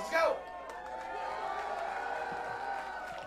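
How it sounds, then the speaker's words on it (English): Audience at a live rock show in a club claps and cheers steadily after a shout, a broad wash of applause with scattered whoops continuing throughout. "Give them a round of applause"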